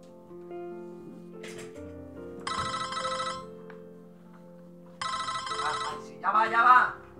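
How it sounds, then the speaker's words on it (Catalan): Telephone ringing for an incoming call, two bursts of bright electronic trilling over a soft musical backdrop, followed by a brief voice near the end. "En López rep una trucada des de Kimoton."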